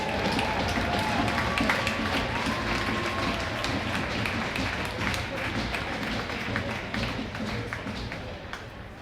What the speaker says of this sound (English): Let's have a nice round of applause, folks.